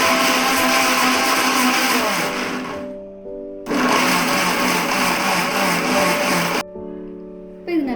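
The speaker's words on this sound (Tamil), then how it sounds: "மிக்ஸி ஜார் க்ளோஸ் பண்ணி blend பண்ணிக்கோங்க" A mixer grinder blends a jackfruit smoothie in loud, whirring bursts, stopping briefly near the middle and again near the end, with a lower hum lingering in the pauses.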